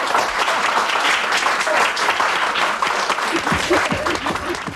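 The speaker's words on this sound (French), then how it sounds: "Un grand applaudissement pour Sœur Siméon," A crowd applauds Sister Siméon, a nun and world billiards champion, with steady, full clapping throughout and voices rising beneath it toward the end.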